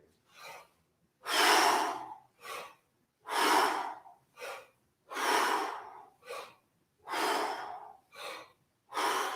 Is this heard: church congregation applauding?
no